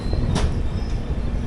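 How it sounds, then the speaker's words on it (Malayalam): The Hubballi–Kochuveli Weekly Express pulls out of the station with a steady low rumble of rolling coaches and a brief bright hiss or squeal. "നമ്മൾ ജസ്റ്റ് സ്റ്റേഷനിൽ നിന്ന് പുറത്തോട്ട് ഇറങ്ങുന്നു"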